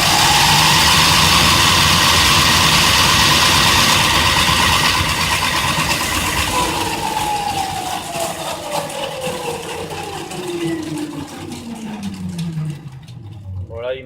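An MBK 51 moped engine runs flat out with the rear wheel spinning off the ground, a loud, steady drone that holds its pitch, then gradually falls as the engine winds down.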